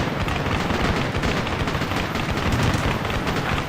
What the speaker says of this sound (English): Heavy fire coming back at us.